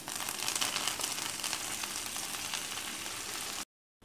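Green coriander hits a hot tempering of red and green chillies for dal, setting off a dense, steady sizzle up close that runs unbroken and then cuts off abruptly.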